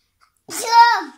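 A single sharp sneeze from a child, close and loud, a burst of breath followed by a short voiced tail.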